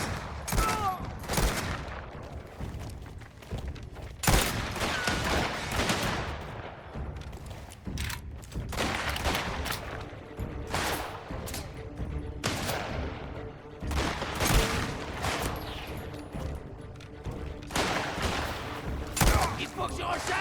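Repeated bursts of gunfire from the video game Mafia: The Old Country, with loud shots and volleys cracking in irregular clusters across about twenty seconds of combat.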